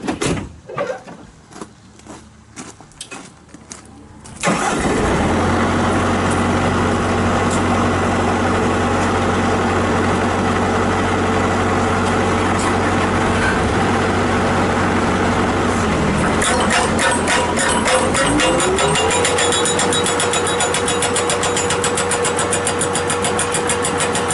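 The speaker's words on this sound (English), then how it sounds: "So I'm gonna fire up this skid loader here and show you that it pounds" A skid loader fitted with a 2001 NPK H4XE hydraulic hammer starts up after a few clicks, then runs at a loud, steady engine drone, its pitch rising as the engine revs up near the end.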